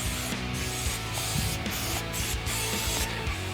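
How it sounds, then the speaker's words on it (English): Cleaner sprays onto loose, dirty parts of a Craftsman DRM500 Yardbug mower held over a pan, a dense continuous hiss mixed with rough rubbing and clicking, fairly close and steady throughout. "I'm gonna spray it. Make sure all those loose and dirty parts come right off."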